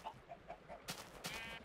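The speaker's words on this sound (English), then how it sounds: "I accidentally killed a chicken too." A chicken in the Minecraft game gives a few short clucks, followed by sharp bursts of game sound effects, close and fairly clear.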